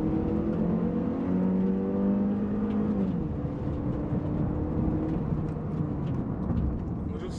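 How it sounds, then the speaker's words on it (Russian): A Chevrolet Cruze engine, air conditioning running, drones and climbs steadily under kickdown acceleration, the tone dropping abruptly partway through as the transmission shifts, then pulling on with a steady whir inside the cabin. "Сейчас попытаемся вот кикдаун."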